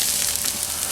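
Ribeye steak sizzles hard as it sears on a Weber kettle, a steady, loud crackling hiss of fat and juices filling the whole moment with no pauses.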